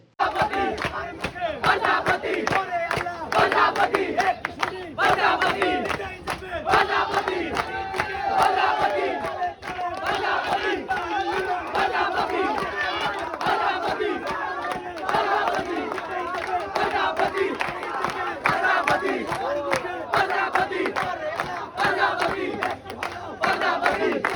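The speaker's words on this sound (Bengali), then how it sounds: "এর মধ্যে দেখি প্রজাপতি মার্কা বিভিন্ন ধরনের সুন্দরভাবে স্লোগান দিচ্ছে" Election supporters of the butterfly symbol chanting slogans in a crowd, many voices shouting in repeated rhythmic bursts that keep going without a break, loud and close.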